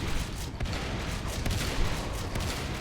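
Marines fire shotguns in the video game Natural Selection 2, a dense, loud barrage of overlapping blasts with no pauses.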